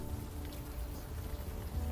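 Night rain in the video game Unavowed, a soft, even patter of drops falling steadily throughout with no voices.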